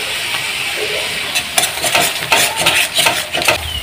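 Masala with a paste of ground white and black mustard seeds being stirred and fried in a pan for a Bengali bhola fish curry, steady sizzle with scraping spoon strokes against the pan, close and continuous, no talk.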